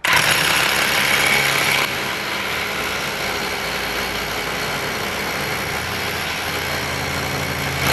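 A Kaltmann Titanium cordless hammer drill drills steadily into a block with a loud, continuous rattling hammer action. It runs without a break for the whole stretch and eases slightly after the first couple of seconds. No one speaks.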